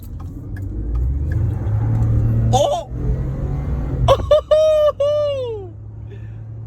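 An EcoBoost Ford F-150 pickup engine rumbles steadily, then revs hard near the end with squealing, rising whines as it accelerates; a person exclaims over it.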